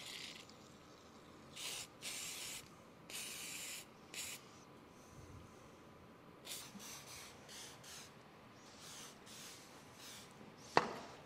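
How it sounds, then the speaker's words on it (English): Several short hissing spray bursts from a can of WD-40, spaced irregularly, followed by a sharp clack near the end. "I just want to spray it down with WD-40"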